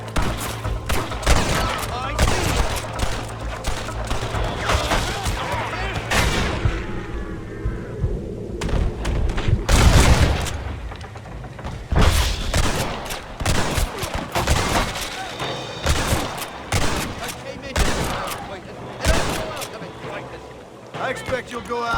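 A gunfight in Red Dead Redemption in the New Austin desert: repeated loud, close gunshots crack in irregular volleys, with a few quieter pauses between them, over game music and voices talking.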